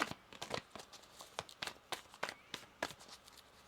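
Tarot cards being shuffled by hand, a quiet close run of crisp papery riffles and flicks repeating in quick, uneven bursts.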